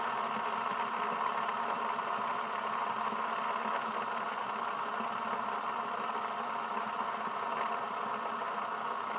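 Fidget spinner spinning at speed, a steady, faint, continuous whirring hum that holds unchanged throughout without voices.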